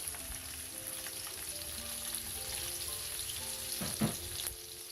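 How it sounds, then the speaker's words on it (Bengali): Steady sizzling of onions and green chilies frying in a pan with toasted cumin seeds, with a brief stirring clatter near the end. "এখন এই পেঁয়াজ মরিচটাকে আমি হালকা ভেজে নিচ্ছি"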